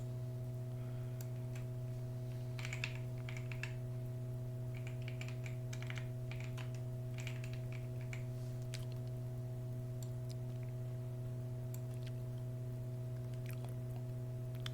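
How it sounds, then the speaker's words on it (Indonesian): Typing on a computer keyboard, light scattered key clicks in short bursts, fairly faint beneath a constant low electrical hum and background noise. "Ini kita ketik lagi."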